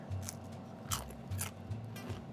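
Homemade air-fried potato chips are bitten and chewed close up, giving a few sharp, crisp crunches over a couple of seconds, quiet and alone.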